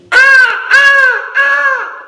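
Three loud, drawn-out nasal caws come one after another in a close, steady rhythm, a voice mimicking a crow.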